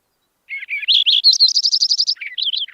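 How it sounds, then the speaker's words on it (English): A Lincoln's sparrow sings one bright, rapid song: buzzy opening notes rising into a fast trill, then a brief jumbled ending, clear and close. "I think I have rarely heard Lincoln sparrows singing."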